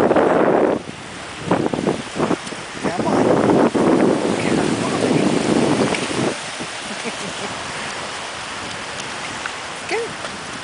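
Small waves wash in on a windy Texas shoreline where young Tennessee Walking Horses are being trained, with steady surf and wind noise rising and falling while someone speaks to the horses.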